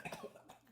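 A short burst of coughing, two or three quick rough coughs close to the microphone in a virtual-reality chat room.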